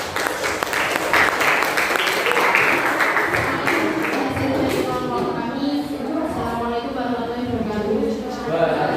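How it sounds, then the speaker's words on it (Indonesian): Classroom applause for student group two: dense clapping from the students fills the first half, then thins as voices talk over the fading claps. "Beri tepuk tangan untuk kelompok 2."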